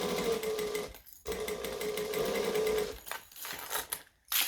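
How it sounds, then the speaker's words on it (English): A sewing machine stitches a seam on a bag in fast, rapid-fire bursts, with two short pauses between runs and a few stuttering stops near the end; close and loud, no talking. "We're going to sew along."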